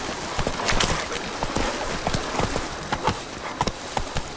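Hooves of Roach, the horse in The Witcher 3, clip-clopping in a steady trotting rhythm, close and clear over a faint outdoor background.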